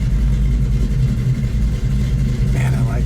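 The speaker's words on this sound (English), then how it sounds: "Man, I like this car. Just the sound of it. It sounds pretty sweet." A deep V8 engine of a 1973 Dodge Challenger idles close by with a steady, throaty low rumble that runs the whole time and barely changes.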